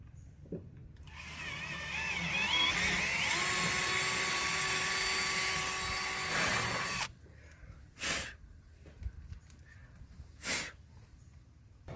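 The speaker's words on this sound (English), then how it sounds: "now that I've got these 2 holes drilled here" A power drill bores holes through wood and into aluminum while mounting a diving board, with a sustained whining drill run of several seconds, then short separate bursts of drilling later, close and loud.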